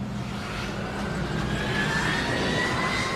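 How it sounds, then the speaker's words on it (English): A large jet airliner taxis along a runway, its engines giving a loud, continuous roar and whine with a slowly rising tone throughout, no voices. "the only way they could get to the correct end was by taxiing up the runway itself."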